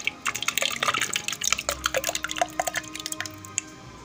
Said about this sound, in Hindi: दही डाल रही हूँ